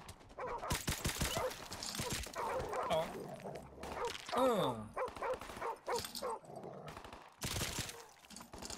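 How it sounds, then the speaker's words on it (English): Dogs barking in Call of Duty: Modern Warfare Remastered, a run of sharp yips and barks spread through the clip amid gunfire-like bursts and game noise, with a voice speaking briefly. "I hear dogs."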